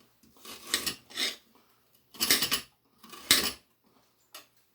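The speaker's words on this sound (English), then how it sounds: "We're going to take a nice white onion, and we're going to cut him in 6 pieces." Knife chopping a white onion into six chunky pieces for a marinated tomato, cucumber, onion and olive salad, heard as four distinct bursts of cutting and scraping on a board, close and alone with no talk.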